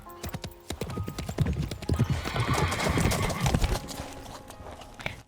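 Horse hooves clip-clop steadily through a flowery field in spring sunlight in the Love and Deepspace video game, close and fairly loud, with a neigh or whinny breaking in partway and a soft background bed throughout.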